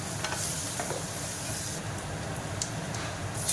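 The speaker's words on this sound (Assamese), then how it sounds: "এতিয়া ইয়াক ধুনীয়াকৈ ফ্ৰাই কৰি থাকিম।" Potatoes with cumin, garlic and turmeric fry in mustard oil in a pan, giving a continuous hissing sizzle with occasional soft stirring clicks, close and alone.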